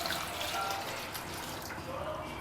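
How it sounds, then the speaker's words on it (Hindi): Water pours steadily into a bowl in a home kitchen, a continuous, soft splashing trickle that stays even throughout without any speech. "बोल में मैं डाल देती हूँ यहाँ पर पानी,"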